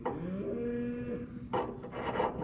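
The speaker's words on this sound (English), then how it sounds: "Cows are still mad." Farm cattle moo nearby with a long, drawn-out low call in the first half, followed by rougher scraping or rustling noises over a steady outdoor background.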